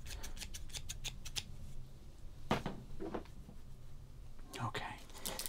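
Scissors snip repeatedly in quick crisp cuts, close by, with soft whispering and a few paper rustles between the snips.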